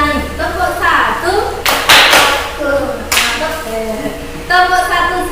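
Hand claps ring out in a classroom clap game, with a few sharp bursts of clapping between stretches of speaking voices, close and loud.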